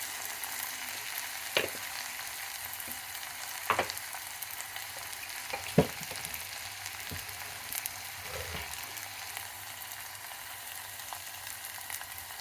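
Rasam tempering frying in a home kitchen pan, a faint steady sizzle with a few sharp pops and crackles scattered through, quiet and close with no talking.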